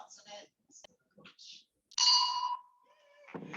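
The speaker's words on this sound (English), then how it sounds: "Michael, you're supposed to ding the bell when it starts" A small desk bell dings once at a meeting, a bright, clear ring that fades slowly, with people talking briefly before it and again as it dies away.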